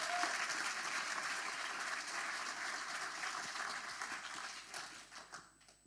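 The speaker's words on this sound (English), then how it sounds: "Big applause for Overvolt." A tech launch audience gives a warm round of applause for Overvolt, a steady bed of many hands clapping that holds for several seconds before gradually thinning and fading out at the end.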